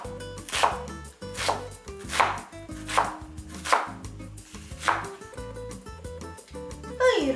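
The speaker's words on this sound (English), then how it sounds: "Layers, cut through, instantly diced." A knife dices layered vegetables on a cutting board in a regular series of about eight firm chops, close and loud, under background music, with no clear talk.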